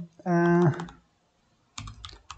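Computer keyboard keys typed while writing Flutter code for a chat app, a short close burst of clicks that follows a brief vocal sound and a pause.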